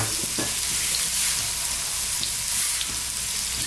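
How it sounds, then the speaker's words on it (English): Finely chopped garlic and onions sizzling in hot oil in a pan, a dense, continuous, close-up frying crackle at steady loudness with a few faint clicks and no talk. "we're going to drop in our garlic and our onions"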